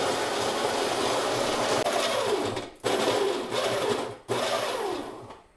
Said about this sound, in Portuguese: Esperar só terminar de moer aqui.